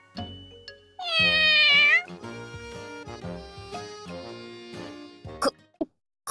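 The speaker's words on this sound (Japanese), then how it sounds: "この猫" A cat in the KonoFan Japanese game story scene lets out a loud, drawn-out rising meow, then softer clipped mews and chirps, with a brief sharp sound near the end.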